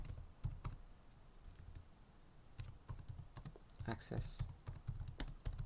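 Computer keyboard typing of a router configuration command, irregular bursts of close key clicks with pauses, and a voice talking quietly between them.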